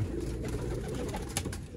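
Racing pigeons coo softly and steadily in a loft, faint and low over a constant background hum, with no talking.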